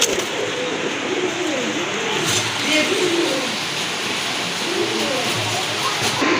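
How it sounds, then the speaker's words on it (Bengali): Soft Jacobin pigeon cooing in low, rolling phrases, repeated several times over a steady background hiss, with a faint voice at times. "ওভার সাইজের এক জোড়া জ্যাকোবিন কবুতর"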